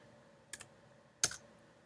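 Two short bursts of key clicks on a Mac computer keyboard, close and crisp against a quiet room background.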